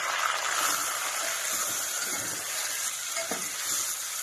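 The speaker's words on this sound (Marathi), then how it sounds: "हिरवी मिरची लसणचे मसाला आता मी टाकते ह्याच्यात टमाटर आणि धनिया" Tomato and coriander dropped into a frying masala of onion, green chilli and garlic, giving a dense, even sizzle close up with a few faint stirring knocks.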